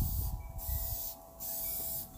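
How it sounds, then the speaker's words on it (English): Aerosol spray can hisses in light passes back and forth, several short sprays separated by brief pauses, faint and close, during alcohol ink painting. "when I spray, I'm just gonna go back and forth really lightly"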